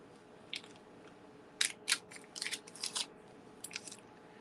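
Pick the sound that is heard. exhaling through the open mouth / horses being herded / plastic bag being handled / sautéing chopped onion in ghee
plastic bag being handled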